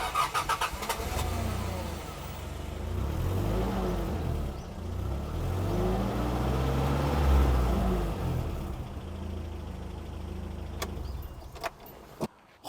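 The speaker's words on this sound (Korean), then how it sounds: "엔진음 한번 들어보도록 하겠습니다." A Hyundai Galloper's base 2.5 non-turbo engine cranks and starts, then runs with a low, uneven rumble close by for about ten seconds before shutting down, leaving a few sharp clicks.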